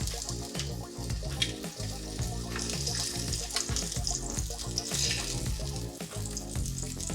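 Salmon pieces sear in hot oil in a pan, a steady close sizzle and crackle with busy popping running throughout and no speech.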